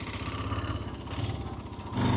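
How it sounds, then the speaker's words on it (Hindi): A motorcycle, left parked for four days, idles close by after being started, its engine putting out a steady, uneven chugging rumble with light clatter that swells slightly near the end. "4 दिन के बाद बाइक को स्टार्ट किया तो ज़ाहिर बात उसने खैर सुबह उसकी जो है"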